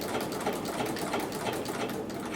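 A sewing machine fitted with a ruffler foot stitches fabric for a flower pillow, humming in a fast, continuous, close chatter without pause.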